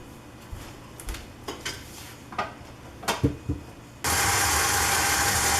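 An electric mixer switches on and creams eggs and white sugar for baking, a loud steady whir that follows several clinks and knocks of bowl and utensils.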